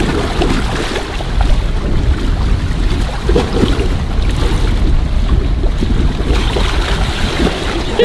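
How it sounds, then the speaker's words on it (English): Ocean waves wash and slap around a boat, a loud, continuous surging roar mixed with gusty wind buffeting the microphone. "These waves is too much"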